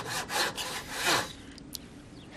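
A handsaw cuts through wood in several quick rhythmic back-and-forth strokes, close and loud, then stops, leaving a quiet room with a couple of small clicks.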